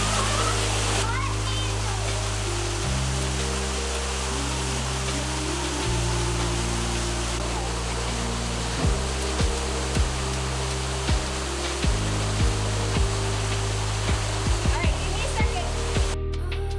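Steady rushing roar of a waterfall in a state park, heard from near the cave behind the falling water, continuous broadband noise with faint low hum and a few soft knocks over it.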